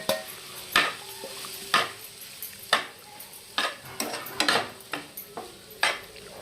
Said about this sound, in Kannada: ಇದನ್ನು ಪೂರ ಮಿಕ್ಸ್ ಮಾಡ್ಕೊಂಡ್ಬಿಡ್ತೇನೆ